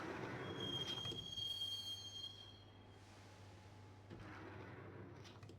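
Train ride toward Roscoe Street Station in Max Payne, a continuous low rumble of rolling wheels with a thin high squeal of wheels on rails, fairly faint and steady.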